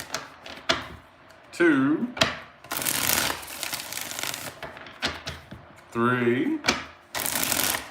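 Tarot cards riffle-shuffled for a mini reading, two crisp bursts of flapping card noise separated by a pause, with a nearby voice counting between the shuffles.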